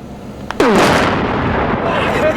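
A massive high-explosive detonation from dozens of bags packed into a drum erupts as one sudden, very loud broadband blast, then a long rumbling roar and debris wash that stays loud until the end.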